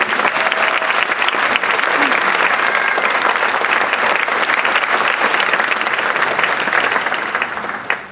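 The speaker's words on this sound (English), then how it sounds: "how about one last round of applause for all of our award recipients?" Sustained loud applause from an audience for award recipients at a college honors night, dense even clapping for about eight seconds before quickly dying away at the end.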